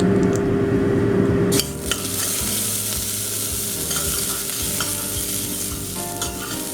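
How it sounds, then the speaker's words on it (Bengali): Whole garam masala and cracked cardamom hit hot oil for a yogurt chicken curry, bursting into loud, close frying and sizzling, with spoon scrapes and stirring clatter against the pan and no voices. "তেল গরম হয়ে এসেছে। আমি এর মধ্যে গরম হিসাবে গোটা গরম মশলা, আমি এলাচগুলোকে একটু ফাটিয়ে নিয়েছি, এর মধ্যে দিয়ে দেবো।"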